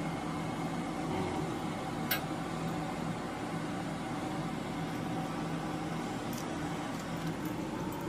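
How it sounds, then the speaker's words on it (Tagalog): An oven running while it preheats hums and whirs at a low, steady, faint level, with a small click partway through and no one speaking. "i-preheat muna natin yung oven mga ka-chef"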